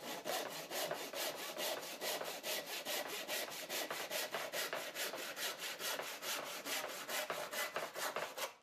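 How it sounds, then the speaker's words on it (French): Steady back-and-forth hand sawing through wooden battens, rhythmic strokes repeating quickly and evenly, close and fairly loud with no talking. "Sciez alors ces lattes."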